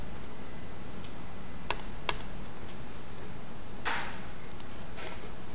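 Sparse keystrokes on a computer keyboard: a handful of light, close clicks spaced irregularly over a steady background hiss, with a slightly longer rattling press toward the end.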